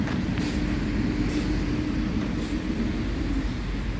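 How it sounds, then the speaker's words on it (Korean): Steady road traffic rumbles along a street, a continuous broadband roar of passing cars heard from the roadside, with a few faint higher hisses rising above it and no talk. "근데 차 소리가 너무 나죠?"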